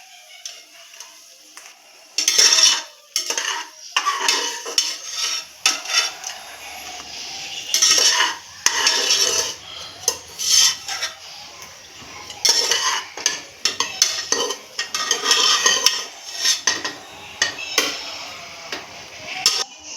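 A spoon scrapes and stirs pistachios roasting in ghee in a pan for gajar halwa, with an irregular run of clinks and scrapes over a faint sizzle and no talking.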